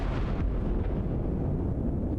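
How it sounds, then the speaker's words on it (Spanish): Edinburgh Castle's one o'clock cannon firing, heard as a deep, rumbling boom that rolls on and fades slowly across the open air, loud and alone without voices. "los turistas se sorprenden con el disparo de cañón que indica la 1 de la tarde"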